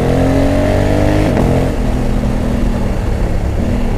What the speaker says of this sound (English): have put a lot of effort into getting this bike to sound decent, and if you didn't know, you could almost think this was a V-twin.